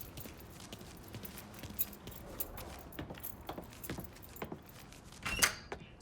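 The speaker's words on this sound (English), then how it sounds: "Lincoln, pick up the keys" Keys jangle in Mafia III as a set of truck keys is picked up, with light metallic clinks scattered through the clip and a brighter, louder rattle near the end over quiet game ambience.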